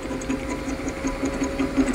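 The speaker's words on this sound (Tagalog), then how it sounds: "nag-testing na ta sa atong line boring machine" A homemade line boring machine driven by a diamond core drill motor runs steadily, a close mechanical whir with a fine repetitive rattling pulse.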